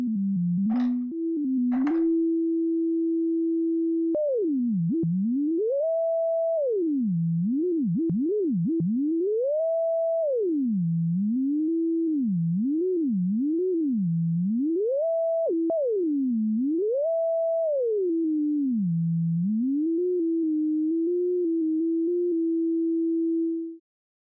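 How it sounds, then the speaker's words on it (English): Pure sine tone from a Pure Data synthesizer, bent up and down with a MIDI pitchbend touch strip, gliding in repeated swoops and steps between steady held pitches, clean and alone for over twenty seconds. "the resolution on that Pitchbend touch strip isn't great because I could actually hear increments here"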